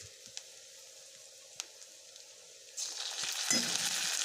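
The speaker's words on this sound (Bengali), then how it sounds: "পেঁয়াজটা নাড়াচাড়া করে একটুখানি লাল লাল বাদামি কালার করে দেবো" Onions fry in mustard oil as a faint background gives way partway through to a louder, steady sizzle with a stirring scrape, heard up close.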